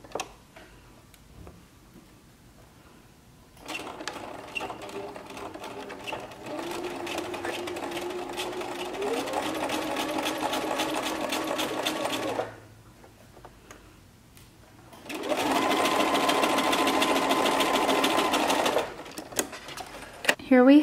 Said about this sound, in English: Here the machine is threaded with a single needle.